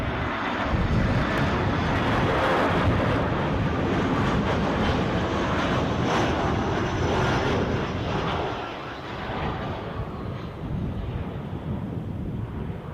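A passenger airplane lands at Edinburgh airport with a loud, broad roar of engines and rushing air that holds steady, then drops off to a lower rumble toward the end.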